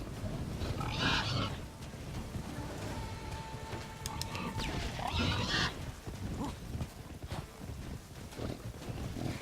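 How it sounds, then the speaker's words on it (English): Pigs in The Witcher 3 grunting and squealing in bursts, with two loud outbursts amid steady game noise, close and harsh. "Angry flaming pigs!"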